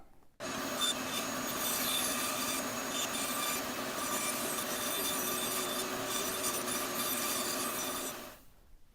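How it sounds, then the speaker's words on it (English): A bandsaw cuts through maple wood with a steady, close rasping whine that starts abruptly and runs continuously for several seconds before stopping. "I've drawn out my designs on the maple and I'll take it to the bandsaw"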